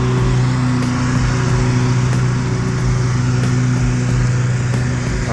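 Pressure washer driving a Whisper Wash 31" Mini Mondo surface cleaner across a heavily soiled driveway, a loud, steady engine drone with a continuous hiss and a faint pulsing beat, close up and without pause.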